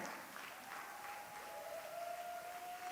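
Congregation applauding during a French-language church service in Montreal, a steady wash of clapping at moderate distance with no talk over it.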